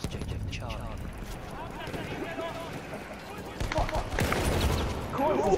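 Gunfire in the video game Battlefield 1, with horse hooves: scattered shots under steady talking, while a horse clip-clops and battle noise swells toward the end.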